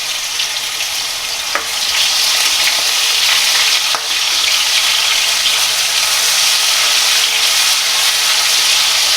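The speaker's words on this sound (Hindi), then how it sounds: "थोड़ा सा इसकी कच्ची बू जाने तक इसको फ्राई करेंगे।" Ginger garlic paste fries in a hot pan for a cabbage, potato and tomato curry, giving a continuous bright sizzle with a couple of faint clicks of stirring, close and steady throughout.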